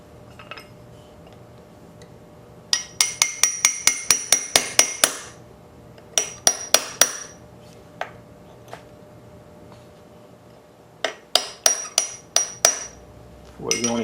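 A hammer tapping a part into place on a Maytag 92 engine under restoration: three bursts of quick, sharp metallic taps, close and ringing, with short pauses and a few isolated knocks between.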